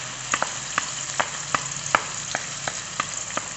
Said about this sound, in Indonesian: Kita tunggu sampai minyaknya panas. Nah, ini kemudian kita akan tumis bumbunya.